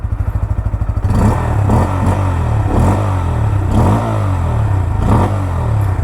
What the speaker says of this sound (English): We can hear that grunt in the low RPMs itself.